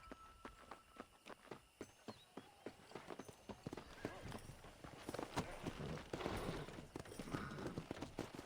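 Horse hooves pound in a fast gallop in Red Dead Redemption, a steady rapid clip-clop that builds in density and loudness as the ride goes on, with a brief whinny and faint voices mixed in.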